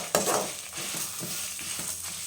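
Spices and curry leaves for puliyogare paste sizzle in a hot pan, stirred with several scraping strokes, close and continuous, with no talk.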